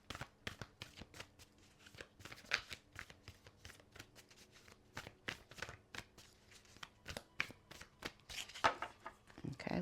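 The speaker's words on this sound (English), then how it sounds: "Okay, let's cut the cards." Oracle cards from a Sacred Oracle Destiny deck shuffled by hand at close range, a steady run of quick riffling flicks and soft slaps across the whole stretch, with no talking.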